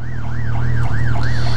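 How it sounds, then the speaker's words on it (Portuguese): Ambulance siren wailing close and loud, a rapid repeating up-and-down yelp cycling about five times over a steady low engine rumble, no talking. "Esperem a ambulância passar."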